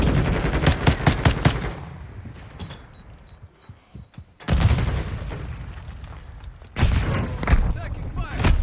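Rapid automatic gunfire bursts and heavy booms rattle loud and close in a Call of Duty Modern Warfare II online match, coming in dense volleys separated by a quieter stretch, with a player's voice talking over the action.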